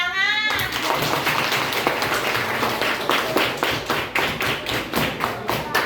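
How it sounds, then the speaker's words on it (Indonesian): Schoolchildren in a primary school classroom clap their hands together in a rhythmic, patterned beat of sharp, near, loud claps that carries on steadily throughout. "Tepuk tangan."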